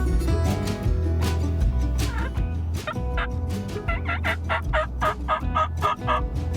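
A wild turkey gobbles loudly again and again in rapid rattling bursts, heard from inside a car over its steady low engine rumble.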